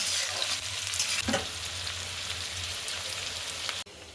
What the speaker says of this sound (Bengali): পেঁয়াজটা মোটামুটি লাল করে ভেজে নিতে হবে